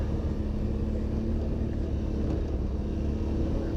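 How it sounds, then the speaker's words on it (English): A side-by-side UTV engine drones steadily while riding along a wooded trail, a constant low rumble close by with no talking. "it's the perfect side by side to be riding out here"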